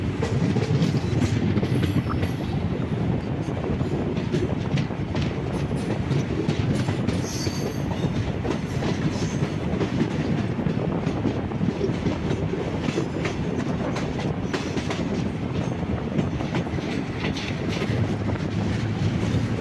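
A passenger train on the Thiruvananthapuram to Kollam line runs steadily on the rails, a loud continuous rumble with rhythmic wheel clatter and occasional squeals, heard from on board with no talking.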